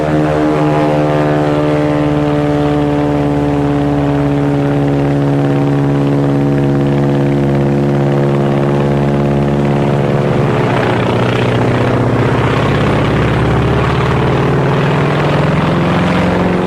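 A Japanese Zero propeller fighter plane drones steadily with a strong engine hum rich in harmonics, loud and continuous, its pitch shifting slightly partway through as it passes, with no talking.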